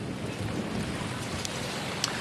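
Heavy rain pours down in Fort Lauderdale, South Florida, as a dense, steady hiss with no break, with faint ticks of drops now and then and no voices.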